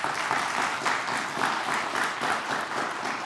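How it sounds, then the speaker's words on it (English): A studio audience claps for the Lena-Winslow Panthers junior quiz bowl team, a steady round of applause with slight swells, continuous from start to end. "How about a nice round of applause for the Lena-Winslow Panthers?"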